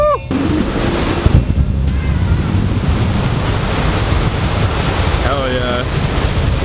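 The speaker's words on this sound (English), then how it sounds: "So I'm standing in the ocean right now" Surf at Venice Beach, heard while standing in the ocean: a steady, loud wash of breaking waves through the whole stretch, with heavy wind buffeting on the microphone and a faint chirp of a bird or whistle near the end.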